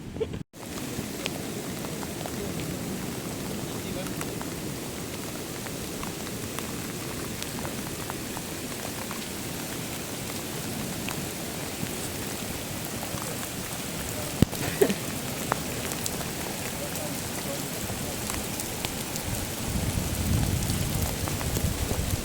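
Steady rain pours down during a motorcycle trip in Turkey, a dense, even hiss of drops drumming on nearby surfaces around a tent, continuous and fairly close, with a few sharper drop impacts and no talk.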